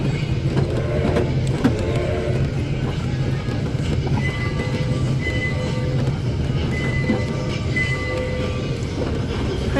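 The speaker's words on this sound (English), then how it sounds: "This is a really fun train ride." Amusement train ride at Icon Park in Orlando, Florida, a steady rumbling roll of wheels and carriages with faint clatter and a few brief squeaks, continuous throughout without talk.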